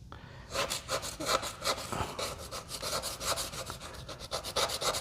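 Stiff brush scraping caked-on crud off a bike before a kerosene soak, heard as a close, steady run of rapid rasping back-and-forth strokes with no talking.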